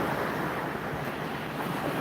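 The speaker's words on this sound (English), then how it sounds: "water coming up on shore" Ocean waves washing up onto a beach shore on a cold day make a steady, broad rush of surf with wind noise, continuous and fairly close, with no talk.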